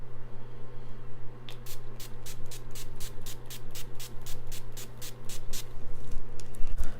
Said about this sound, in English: now I'm going to spray with my NYX Dewy Finish setting spray.